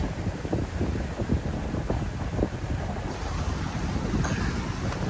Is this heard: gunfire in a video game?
no